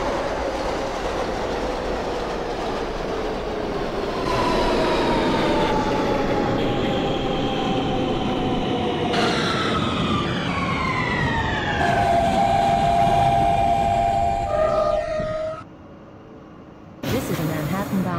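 A simulated Siemens R160B subway train runs on a local route, its motor whine climbing and shifting in pitch through several stepped tones as it accelerates, loud and steady, with a brief drop near the end before the hum resumes.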